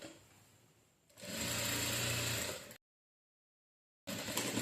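Sewing machine stitching the side seam of a saree blouse, running in a loud steady whir for about a second and a half after a quieter start, then cutting out, with a fresh burst of stitching near the end.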